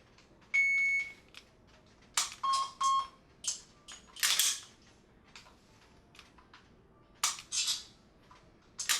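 A pistol shot timer gives a short electronic start beep, with a second tone shortly after, on a reload-target shooting drill. Several sharp, loud bursts follow at irregular intervals over otherwise quiet range ambience.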